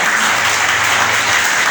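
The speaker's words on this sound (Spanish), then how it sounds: "¿Cuánto le damos un aplauso a Dios por eso?" A church congregation applauds during a Spanish-language sermon, a loud continuous roar of clapping filling the whole stretch with even intensity.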